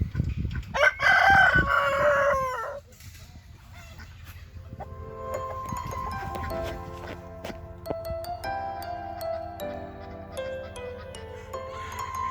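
A Gournay rooster crows loudly and close at the start, followed by quieter clucking and movement from the hens in their pen, with a faint outdoor background.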